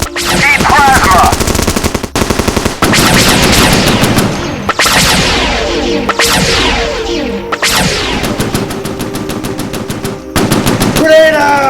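Video game machine gun suppression fire: loud, dense bursts of rapid automatic gunfire in several long strings separated by brief gaps, with whooshing and impact sounds mixed in and faint voices in the background.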